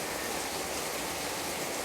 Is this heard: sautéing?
no